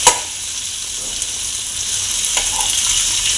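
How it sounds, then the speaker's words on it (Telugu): Cabbage with curry leaves fries in a pan until golden, a short steady sizzling hiss with a sharp clatter at the start and a faint scrape near the end, close by and alone. "క్యాబేజీ కూడా గోల్డెన్ కలర్ వచ్చేదాకా ఫ్రై చేసుకోవాలి."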